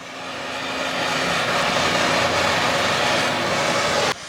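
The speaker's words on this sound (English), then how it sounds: "I'm going to light up our smoke tube with my gas torch." A gas torch lights a smoke tube packed with pecan pellets for smoking ribs on a gas grill: a steady, loud roaring hiss that swells over the first second, holds, then cuts off abruptly near the end.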